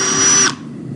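A power drill boring a pilot hole runs at a steady high whine for about half a second, then cuts off abruptly, leaving only faint room noise.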